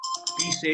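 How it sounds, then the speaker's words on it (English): A mobile phone ringtone plays a short, bright melodic phrase of stepped tones, with a voice briefly speaking over it. "That was my phone."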